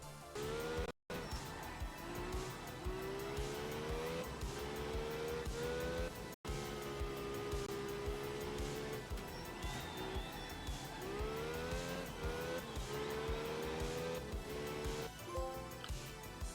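Racing game car drifting, with engine revving up and down in rising sweeps and continuous tire squeal under a bright, dense soundtrack-like wash, broken by two brief cuts to silence.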